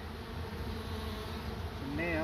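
Honey bees swarm around a hive being moved out of a tree, filling the air with a dense, steady, close buzzing hum that runs unbroken throughout.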